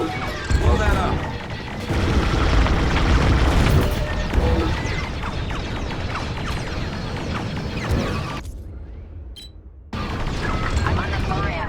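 Explosions from the Star Wars Squadrons space-combat game during a trench run along a station's edge, loud crashing booms over engine roar and blaster fire, with voices talking over the action.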